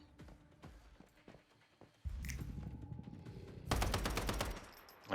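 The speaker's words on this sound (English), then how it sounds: "Oh, shooting the wall, dang it." Bursts of gunfire strike a wall in the Once Human game: a few scattered shots and footsteps first, then a sustained rattling volley that grows louder toward the end, with no voices.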